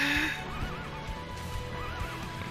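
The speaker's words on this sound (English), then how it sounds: "look at this horse" A horse in Sengoku Basara 4 neighs and whinnies in a wavering, drawn-out call, with a few hoof clops in the background.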